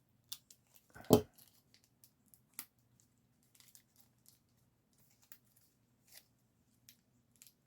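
Scissors snipping tape on the plastic packaging of a Masters of the Universe Origins Sorceress figure, one sharp close cut followed by faint scattered clicks and rustles in an otherwise quiet room.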